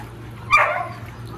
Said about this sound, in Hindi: ना कौन है ये जो गुर्रा रहा?